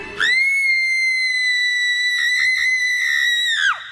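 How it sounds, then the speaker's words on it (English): A woman's blood-curdling shriek in a horror story, one loud, sustained, piercing tone that holds steady for over three seconds, wavers briefly, then drops away at the end. "she gave the most horrific, blood-curdling shriek I ever heard"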